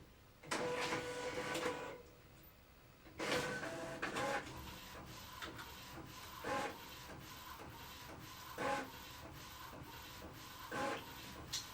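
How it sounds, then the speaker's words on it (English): A DTF printer printing labels gives off quiet mechanical whirring, with repeated short bursts of carriage movement and shuffling at irregular intervals over a low background hum, and no talking. "it's printing"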